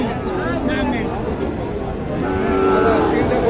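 Sahiwal cattle at a livestock market moo in long, wavering calls over a dense bed of crowd chatter and market noise, with one louder drawn-out moo toward the end.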